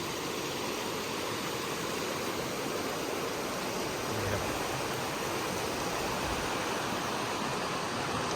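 Waterfall at Chae Son National Park, a steady, dense rushing roar of falling water that stays even and continuous from start to end without any talk.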